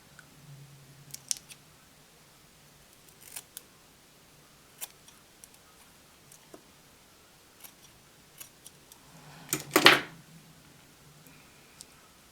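Scissors cut a hair weave piece in a few sparse, sharp snips spread over a quiet stretch, with one louder crunching cut near the end, close up and without talk.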